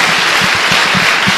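A church congregation bursts into loud, dense applause for Jesus during a sermon. The clapping forms a continuous close wash, with faint rhythmic low thumps beneath.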